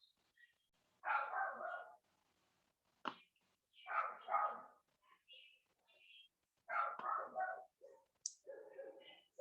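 Dogs at home barking in short bursts with a few yips, separated by brief quiet gaps, fairly faint and somewhat distant.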